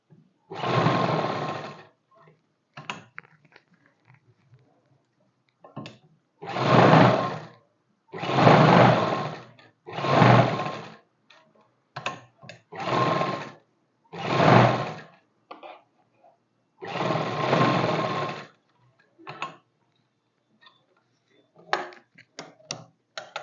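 A sewing machine stitches the waist seam of a suit in several fast whirring runs of a few seconds each, separated by pauses with small clicks and handling noises.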